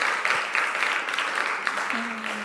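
A church congregation at a Sunday service applauds joyful news, a steady, moderately loud wash of clapping throughout, with a voice briefly speaking over it near the end.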